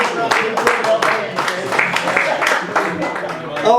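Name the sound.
audience applause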